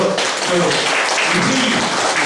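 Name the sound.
meeting attendees applauding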